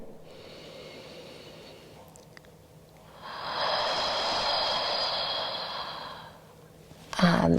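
A long, deep breath during an evening yoga wind-down, heard as a soft, airy inhale followed by a fuller, louder exhale, close to the mic, ending in a brief sharper breath.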